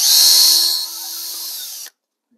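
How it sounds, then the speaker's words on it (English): A small power drill whines loudly and steadily at close range, boring a hole into the side of a metal-cast model building, dropping in pitch partway through before stopping abruptly. "But I need to drill a hole right into the side of the building right here."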